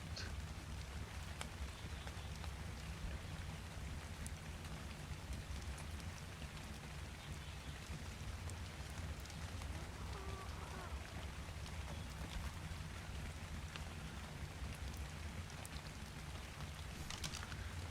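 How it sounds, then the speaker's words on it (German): Steady rain falls throughout in the video game ARK: Survival Evolved, a soft continuous patter and hiss with a low rumbling underneath, fairly quiet and unbroken. "Es regnet."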